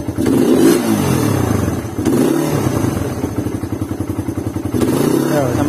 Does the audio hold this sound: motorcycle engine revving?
yes